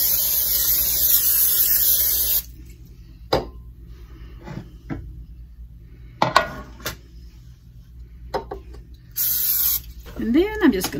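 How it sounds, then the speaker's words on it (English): Cooking spray blasts into a baking dish in two long hissing bursts, one at the start lasting a couple of seconds and another shorter one near the end, close and loud, with light clinks of kitchenware in between. "I've got a baking dish here that I'm just going to spray it with some cooking spray."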